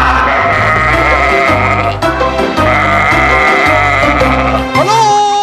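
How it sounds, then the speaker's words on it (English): Sheep bleating in a lively children's farm song, the animal calls set against steady, loud music with a strong beat rather than heard alone. "I saw a sheep across the way, and what do you think I heard it say?"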